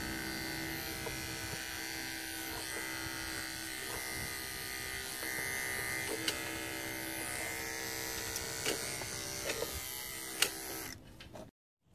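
Electric clippers buzz steadily and close up while shaving a show goat, a continuous motor hum with small clicks and shifts as the blades move through the coat, stopping abruptly at the end.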